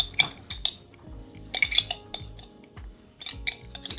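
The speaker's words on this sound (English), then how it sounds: "Scrape, scrape, scrape." A metal utensil scrapes and clinks against a pan while mixing orzo with pesto, making irregular close scraping strokes and sharp clinks separated by short pauses.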